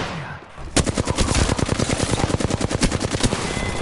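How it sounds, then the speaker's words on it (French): Rapid automatic gunfire in the video game Apex Legends, a loud sustained burst of evenly spaced shots that continues for several seconds after a short quieter lead-in. "On me tire."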